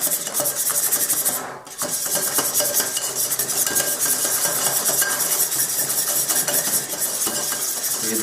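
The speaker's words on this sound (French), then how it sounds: "Il faut bien que l'œuf se mélange au beurre et au sucre, en essayant de blanchir un petit peu" Egg is worked into butter and sugar, giving a close, continuous rhythmic scraping and rubbing of a utensil against a bowl, broken by a brief pause.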